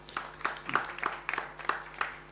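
Scattered claps from a small audience at a photography awards judging session, a handful of distinct, fairly quiet claps spaced irregularly across a quiet room.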